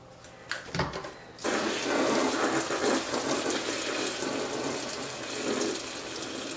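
Water gushes steadily from a hose in an aviary after a brief pause with a few soft knocks, a full continuous splashing rush that holds for several seconds.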